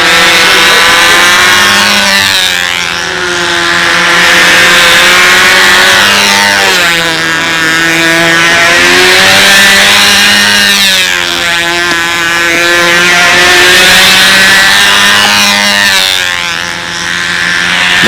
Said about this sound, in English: Tom's still running this without the muffler. Still heat cycling it.